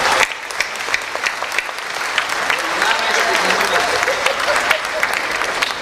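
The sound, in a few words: audience clapping for the prime minister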